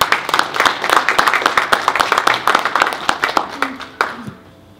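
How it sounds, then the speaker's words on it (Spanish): An audience at a formal agreement-signing ceremony for a senior citizens' development center applauds with a burst of clapping that holds steady for about four seconds before tapering off into quiet. "Brindemos un fuerte aplauso para la firma de este convenio"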